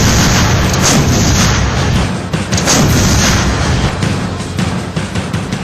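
A K9 Vajra self-propelled howitzer fires, producing loud, dense booming blasts that merge into a continuous roaring rumble, strongest early and in the middle, then tapering slightly, with no voices.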